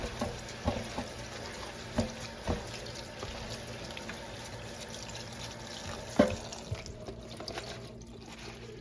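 Mint leaves being rinsed under running tap water in a sink, a steady soft splash with occasional louder drips and knocks, close and moderately quiet, no talking.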